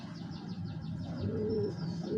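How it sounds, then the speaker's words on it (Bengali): A female pigeon coos softly in a low, steady murmur, accompanied by faint repeated chirps from small birds in the background. "এটা একটা মাদি কবুতর"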